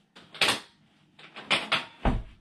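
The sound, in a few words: futon frame mechanism clicking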